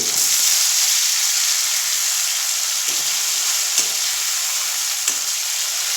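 Green chillies, onion and tomato sautéing in hot oil for egg kurma, a loud, steady hissing sizzle close by, with a few faint knocks of a stirring spoon.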